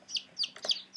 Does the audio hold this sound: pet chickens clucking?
yes